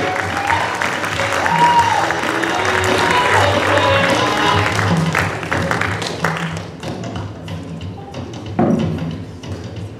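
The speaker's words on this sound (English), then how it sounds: "Please put your hands together, ladies and gentlemen, for Foley!" An audience at a stand-up comedy show claps and cheers in a sustained burst of applause that thins out near the end, with voices faintly underneath.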